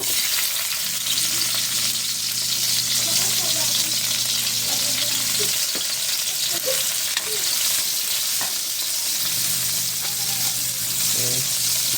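Garlic and onion frying in a pan, a loud continuous sizzle with stirring clatter and scraping up close, a low steady hum running beneath parts of it.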